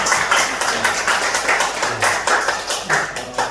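A church congregation claps together to welcome a member, a dense, steady round of applause from many hands filling the room for a few seconds without speech.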